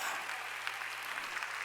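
A congregation at a Sunday worship service claps briefly, a soft, steady patter of hands heard over a faint low hum.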